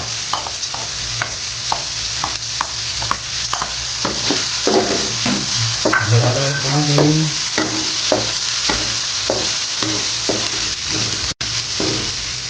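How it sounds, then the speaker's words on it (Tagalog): Onion, ginger and red chili sizzle in hot oil in a pan, a steady crackle broken by regular scrapes and taps of a spatula stirring, close and fairly loud with no talking. "Isusunod po natin ang sibuyas, luya at siling pula."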